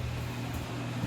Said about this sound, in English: sorry the fan's on